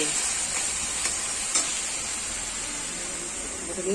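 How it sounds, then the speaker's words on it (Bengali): Masala paste fries in a pan with a loud, steady hiss as it is stirred, with scraping strokes heard up close and no voices over it. "মশলাটা কষানো হয়ে গেছে, এবার মাংস দিয়ে দিচ্ছে।"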